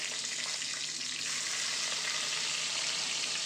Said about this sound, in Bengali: পেঁয়াজ দিচ্ছি নাড়াচাড়া করে নেবো